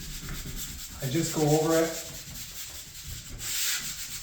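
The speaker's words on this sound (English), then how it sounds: "I can see that it's sanding down real nice and it's not creating a lot of dust." Painted door trim being hand-sanded, a soft rhythmic scratchy rubbing of sandpaper over paint that runs close and steady, with a few quiet spoken words over it.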